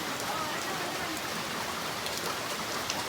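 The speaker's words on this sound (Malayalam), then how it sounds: "മഴ കാണിച്ചു തരാം." Steady rain falling on surfaces, a dense even hiss with scattered drop patters, close and constant for the whole stretch, no speech heard.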